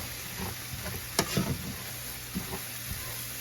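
Food toasting dry in a pan before broth is added gives a faint, soft sizzle, with a few light clicks and scrapes of stirring near the start.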